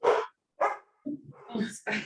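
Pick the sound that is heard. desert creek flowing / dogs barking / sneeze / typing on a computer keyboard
dogs barking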